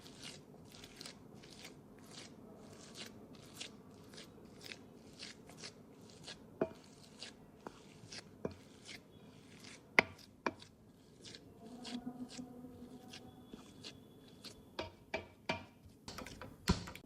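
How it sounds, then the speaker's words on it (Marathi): Boiled potatoes for vada pav are mashed by hand in a bowl, making a quiet series of sharp, irregular taps and squishes that carry on steadily without talk. "आता आपण हे बटाटे मॅश करून घेणार आहोत."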